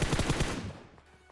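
A rapid burst of automatic gunfire in PUBG Mobile knocks down an enemy, about five close, punchy shots in quick succession, then fading into faint scattered reports.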